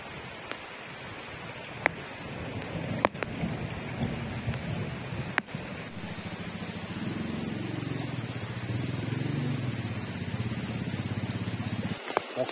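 Heavy rain pours in a steady, dense hiss at a riverside camp with a bamboo shelter, the rushing river blending in, while sharp thunder cracks break through a few times.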